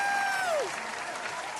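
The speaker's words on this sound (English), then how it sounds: "Let's give a huge round of applause to our brave young warrior," A crowd in Genshin Impact applauds a young warrior, a soft wash of clapping that follows a short falling whistle-like tone in a brief clip.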